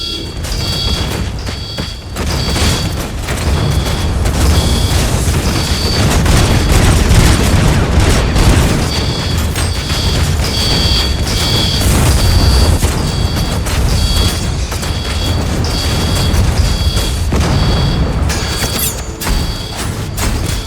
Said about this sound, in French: 4 active turret guns firing at